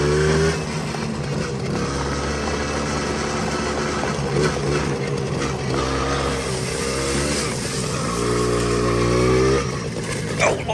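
A Suzuki LT50 quad bike's small engine running steadily while being ridden at about 11 mph, a close, buzzing drone with gentle pitch rises and dips as the throttle shifts.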